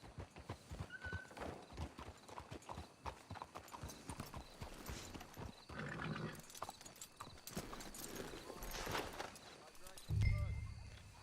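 Horse hooves clip-clop in a quick, steady rhythm in Red Dead Redemption 2, with an occasional whinny and someone talking over them.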